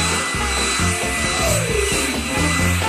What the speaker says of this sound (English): With the help of a hairdryer.